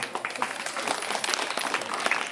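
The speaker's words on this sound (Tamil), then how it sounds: "இதுக்கு நல்ல கரகோஷம் எழுப்புறோம்" Brief, scattered applause from an audience at a Tiruvilakku puja in an Amman temple in West Tambaram, with individual claps audible in a moderately quiet crowd.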